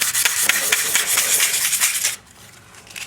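Abrasive pad scuffing a Subaru flywheel surface in circular motion, giving a steady rhythmic rubbing rasp for about two seconds before stopping abruptly into quiet.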